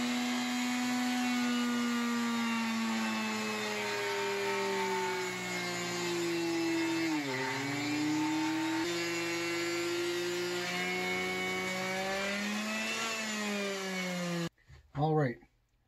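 A drill press cuts slots into a drill press table along the fence, a steady loud motor whine with shifting pitch running continuously, then stopping abruptly near the end before a short burst of sound.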